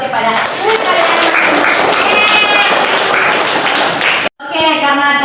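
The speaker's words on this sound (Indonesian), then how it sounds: "Beri aplaus kepada kalian." Students clap for their classmates in a classroom during a microteaching lesson: a dense, loud burst of applause lasting about four seconds, cutting off abruptly before voices and chatter take over.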